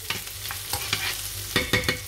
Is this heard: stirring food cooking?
yes